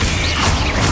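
Confringo blasting spell from Hogwarts Legacy, one loud, close burst with a crashing, whooshing texture lasting about a second, no talking.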